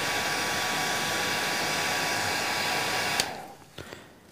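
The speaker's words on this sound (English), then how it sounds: "Just going to use the trusty hairdryer." A hairdryer blows on the hackle fibres of a hand-tied fishing fly, a steady broadband whoosh that cuts off abruptly near the end, leaving brief faint handling sounds.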